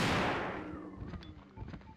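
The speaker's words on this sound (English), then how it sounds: "still shoot with a shotgun anyway" A shotgun fires once in Resident Evil 2 against a zombie, a loud close blast that opens with a sharp broadband burst and fades into a rumbling decay and faint game ambience.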